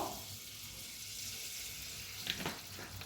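Butter and cooking oil heat in a pan with a soft, steady sizzle, low and fairly faint, broken near the end by a couple of brief clinks or splashes.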